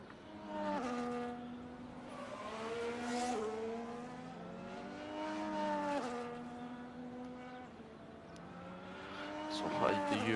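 A Racing Bulls car laps the China round in a racing video game replay, its high engine whine rising and falling in pitch through the gears, steady and close for the whole stretch.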